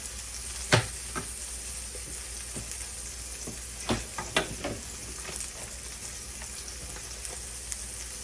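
A burger patty fries quietly in a pan over turned-down heat, a soft steady sizzle with a few sharp pops and spatula clicks scattered throughout, no voices.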